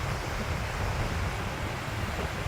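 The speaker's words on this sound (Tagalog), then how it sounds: "Grabe ng hangin, oh." Strong wind gusting over a lake where seagulls fly, a steady, dense roar of blustering air and buffeting on the microphone, almost like crashing surf, continuous and loud throughout with no talk.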